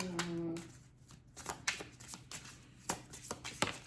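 Tarot cards shuffled and drawn by hand, giving soft papery riffles and several sharp flicks and slaps spaced across a few seconds, close and fairly quiet, with a faint voice or tone briefly at the start.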